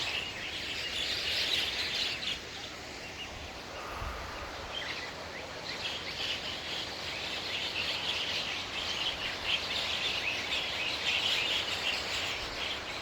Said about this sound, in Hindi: इतनी सारी चिड़िया इस पेड़ में है।